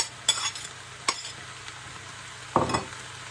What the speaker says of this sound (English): I'm going to add my onion mixture. This is onions, garlic. Add that on.